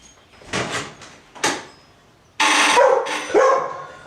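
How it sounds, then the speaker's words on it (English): A dog barks excitedly at the door in several sharp bursts, close and loud, followed by a door sliding and rattling open. "I got it, no more barking"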